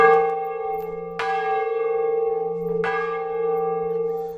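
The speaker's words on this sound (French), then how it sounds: "Sonnons la cloche!" A single large church bell at the Sainte-Barbe chapel in Le Faouët strikes twice, each deep clang followed by a long, humming resonance that lingers between strokes.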